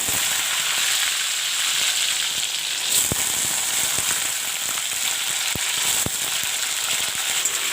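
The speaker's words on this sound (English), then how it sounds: "I will fry the red pumpkin a bit." Red pumpkin frying in mustard oil with panch phoron, a loud constant sizzle close by, scattered sharp crackles and pops of the spices throughout, no voices.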